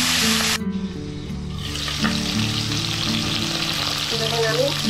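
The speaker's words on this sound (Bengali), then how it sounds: "আমি মাছের মাথাটা খুব লাল লাল করে ভাজা করবো" A fish head fries in hot mustard oil, giving a loud, close, continuous sizzle with occasional stirring scrapes beneath a low background hum; nobody speaks.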